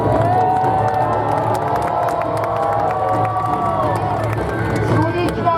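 A jousting crowd at a Pennsylvania renaissance faire cheers for the champions, a loud, sustained roar of voices and shouts with scattered claps, steady throughout with an announcer's voice carrying over it.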